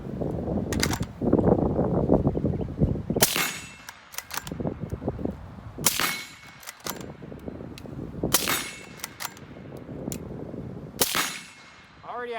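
A Ruger American 7.62x39 rifle fitted with an Occam Defense RUK magwell and a 15-round Magpul magazine fires four sharp, loud shots about two and a half seconds apart, with mechanical clanks and handling noise between them.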